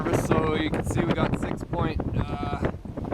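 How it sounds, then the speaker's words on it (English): Gusty wind buffets the microphone on a sailboat in February, roaring and fluctuating steadily throughout, while people talk over it. "we got some wind. Windy."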